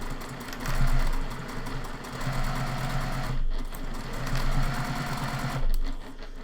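A sewing machine topstitches a quarter-inch seam, running in two sustained close bursts of rapid, even mechanical whirring and ticking, with a short pause and slowdown between them.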